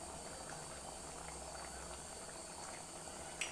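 A pot of fenugreek leaf dal kuzhambu boils gently, making a quiet, steady bubbling hiss with one brief sharp tick near the end and no voices.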